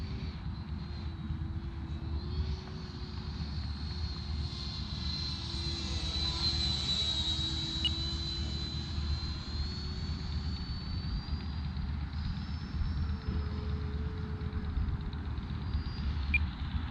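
E-Flite Viper 70mm EDF RC jet making a low pass, a steady whining ducted-fan roar that swells as it comes closer and then fades, over continuous background rumble.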